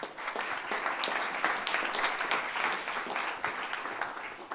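An audience gives a presenter a round of applause, sustained crowd clapping at an even level throughout, with no clear speech over it.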